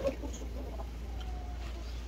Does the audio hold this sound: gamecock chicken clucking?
yes